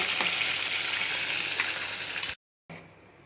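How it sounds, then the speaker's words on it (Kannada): A ground spice mixture fries in hot tempering oil with a loud, continuous sizzle, then cuts out abruptly for a moment before a quieter frying hiss resumes. "ಈಗ ಈ ಒಗ್ಗರಣೆ ತಯಾರಾಗಿದೆ ಇದಕ್ಕೆ ನಾವು ರುಬ್ಬಿಕೊಂಡ ಮಿಶ್ರಣವನ್ನು ಹಾಕಿ ಫ್ರೈ ಮಾಡ್ಕೊಳ್ಳೋಣ"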